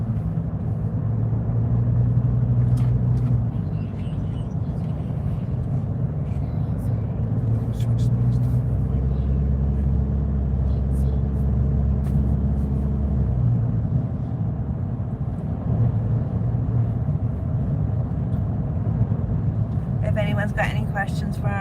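A car drives along an Australian road, with steady low engine and road rumble filling the cabin throughout while people talk over it.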